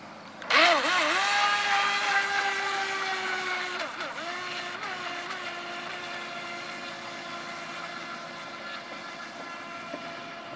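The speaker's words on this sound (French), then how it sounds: "dès l'instant que ça va toucher l'eau, le bateau va se mettre en fonction." A model boat's small motor starts with a rising whine on the water, then settles into a steady high-pitched buzzing drone that runs on continuously, fairly close.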